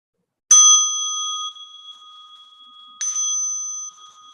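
A meditation bell is struck twice, each strike a bright clear ring with a long sustained tone fading away, the second following about two and a half seconds after the first, in an otherwise silent room.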